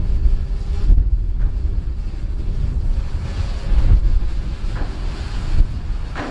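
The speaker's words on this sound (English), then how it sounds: "we got a heck of a wind going here though" Strong, gusty wind buffets the microphone outdoors during a Fimi X8 SE drone test flight, a steady low roar with surges and brief louder gusts, no voices.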